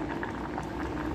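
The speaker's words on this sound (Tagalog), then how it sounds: "Kumukulo-kulo pa siya" Squash simmering in coconut milk bubbles in a pot on a just-switched-off stove, a soft, continuous burble of popping bubbles, close and quiet.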